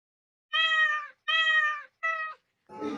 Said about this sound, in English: Right, it is a sound came from a cat.